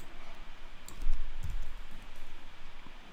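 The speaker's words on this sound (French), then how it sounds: "Je clique à côté, je clique sur le rectangle ou je clique sur le texte" Mouse clicks during object selection in Adobe Illustrator, a few soft, brief clicks close by over a faint, steady room hum, with no voice.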